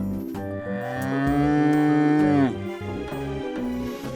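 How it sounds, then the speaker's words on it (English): A farm cow gives one long, loud, close moo that swells and then cuts off, followed by a short lower grunt, with no talk. "Here is the cow."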